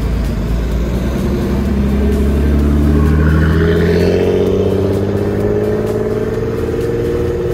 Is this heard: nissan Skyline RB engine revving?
yes